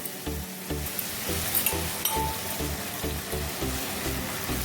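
A steady crackling sizzle as a spoonful of water hits hot jaggery and ghee in a pan, with soft bubbling and faint clinks, close by and continuous.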